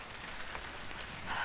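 Rain effect in a school stage production: a steady, even hiss of falling rain, moderately quiet and unbroken, with no voices over it.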